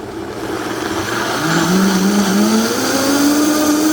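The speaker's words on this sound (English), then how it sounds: "Now we are going to blend it up." Countertop blender whirring through tahini pasta sauce ingredients, a steady close motor drone whose pitch rises and settles as the blades spin up and run.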